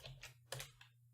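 Python code is typed on a computer keyboard, a few quiet close key clicks in a short uneven burst over a low steady hum.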